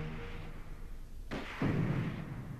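A single distant gunshot or artillery boom in a Chinese TV war drama set during the Long March, a muffled thump followed by a low rumbling tail.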